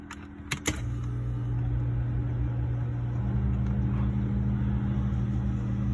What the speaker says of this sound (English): So let's crank the air on.